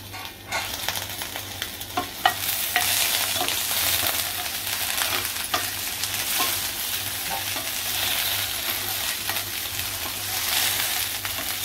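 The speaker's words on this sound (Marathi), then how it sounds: "तर भेंडी मिक्स करून घेऊया झाकण काढून।" Okra being stirred in a hot frying pan for a masala bhendi dish, a steady loud sizzle of frying with scraping stir strokes throughout, close up and without talk.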